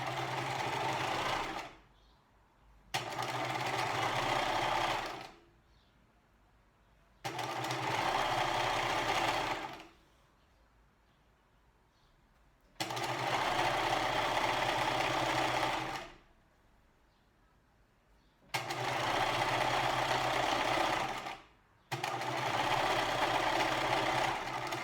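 A sewing machine stitches a quarter-inch seam with fabric pieces placed right side to right side, running in five loud, even bursts of a few seconds each, separated by short pauses, close by and with no talk.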